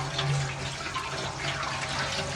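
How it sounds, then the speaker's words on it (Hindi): Running water rinsing vegetables in a home kitchen during Ramadan meal prep, a steady continuous splashing stream with no talk. "माशाल्लाह जी, अभी सब्जी हमारी हो रही है जी धुलाई।"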